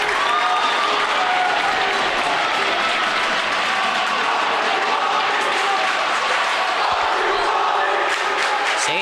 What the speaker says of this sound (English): Sachem crowd now getting into it.